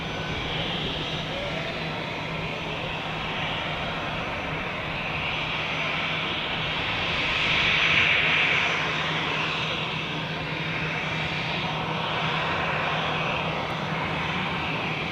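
An airliner taxiing on the apron at Zurich airport, heard from an observation deck as a loud, steady jet engine roar that swells briefly midway and runs without pause.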